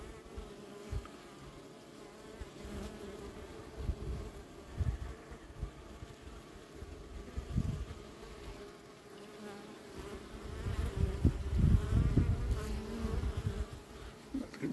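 Honeybees buzzing around a backyard beehive, a steady close-up drone that swells and fades as individual bees fly near, with occasional louder passes and faint handling noises.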